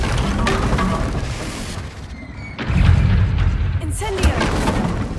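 Confringo fire blast spells cast in the Hogwarts Legacy video game, heavy booming impacts and crackling bursts amid combat noise, with a voice speaking during the fight.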